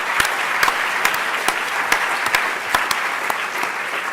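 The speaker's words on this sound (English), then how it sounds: "Let's hold our applause till I read out all the names." Sustained applause from an audience at a closing keynote for a computer interaction conference, a dense patter of many hands clapping with a few sharper claps standing out, steady and fairly loud throughout.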